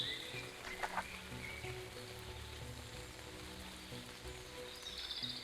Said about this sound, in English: though there's rain outside, you can hear the sounds of multiple creatures